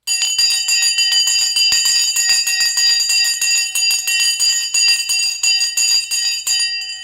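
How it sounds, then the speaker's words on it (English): The stock market opening bell rings in a rapid, continuous metallic clatter, loud and close, sustained for several seconds before cutting off. "the Sensei bell has now rung"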